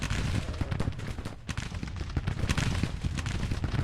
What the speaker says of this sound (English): Firing in there with their Mississippi rifles